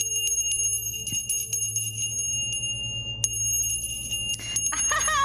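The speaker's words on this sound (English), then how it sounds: "Let me actually ring the bell for you too, just to cleanse the energy." A small bell rings with bright, sustained tones that shimmer and fade, struck again partway through, with soft handling noises and a quiet hum underneath.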